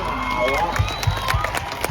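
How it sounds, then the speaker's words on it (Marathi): At a kushti wrestling bout between Sikandar Shaikh and Umesh of Mathura, a crowd claps and cheers in scattered bursts beneath a loud commentator's voice that dominates the mix. "अरे बापरे टाळ्या टाळ्या टाळ्या"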